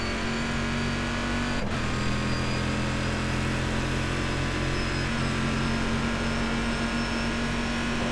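Steady, droning race-car engine of a Corvette C6R GT1 at Le Mans in iRacing, held at high revs with a constant tone, loud and close from inside the car, with one brief dip in the pitch.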